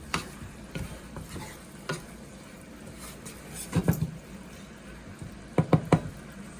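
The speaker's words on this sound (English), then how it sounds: "mix well. Make sure sauces goes inside the tofu" Spicy tofu being stirred through sauce in a pan, Nepali style, with scattered knocks and scrapes of the utensil against the pan, clustering in brief bursts over a faint background sizzle.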